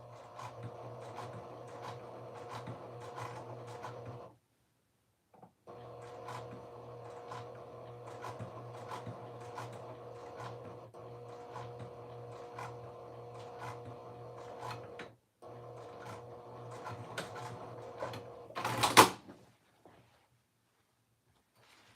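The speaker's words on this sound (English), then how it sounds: "I'm just going to edge stitch the pocket till I get to the bottom of the pocket" A sewing machine edge stitching a dress pocket, running in long steady bursts of rapid needle rhythm with two short pauses, then a brief clunk and rustle before it goes quiet.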